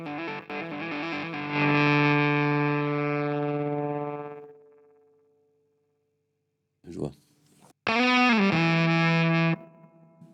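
A heavily distorted electric guitar through a Tone Bender Gaieté fuzz gate pedal rings out a sustained chord that abruptly chokes off into silence, then a short burst of noise and another fuzzy, bending note.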